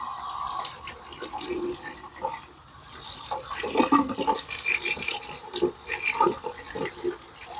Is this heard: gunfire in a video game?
no